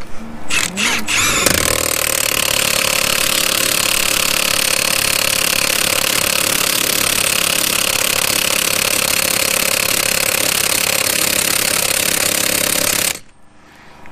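An air compressor runs in a workshop during a comparison of Milwaukee and KS Tools impact tools, giving a loud, steady, unbroken roar for about twelve seconds before cutting off abruptly near the end.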